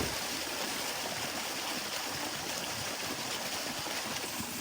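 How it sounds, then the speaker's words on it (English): Water in a natural swimming pool sloshes and rushes steadily throughout, a dense continuous wash of sound close by with no voices. "I then went for a swim in our beautiful natural pool."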